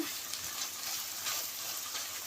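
Mutton mince sizzles and fries in a pan as the water cooks off, a steady soft crackle with occasional stirring scrapes, close and fairly quiet, with no voices.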